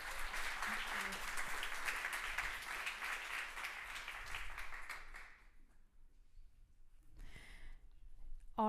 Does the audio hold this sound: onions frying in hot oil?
no